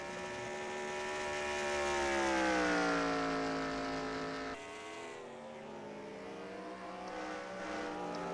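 Race cars in the NASCAR Racing 2003 video game scream past on track, a loud, rising then falling engine whine as the field sweeps by, with a second car's drone following right after.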